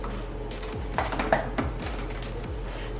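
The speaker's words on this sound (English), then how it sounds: "Let's get the chopping." Food chopped on a kitchen cutting board while preparing a meal kit dinner, with a few knife taps and clinks of utensils over a steady low background hum, no voices.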